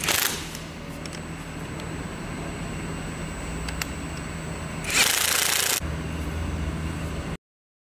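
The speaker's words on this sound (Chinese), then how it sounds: "用油嘴压帽专用工具拧松油嘴压帽" A special tool loosens the nozzle cap nut on a common rail diesel injector clamped in a bench vise, heard as close, steady mechanical noise with a low hum and a brief louder burst of grinding near the end.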